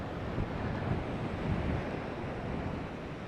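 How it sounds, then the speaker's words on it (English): Strong wind buffets a beach, a dense steady roar with surf-like swells, loud and close with microphone rumble and no voices. "God, it's windy."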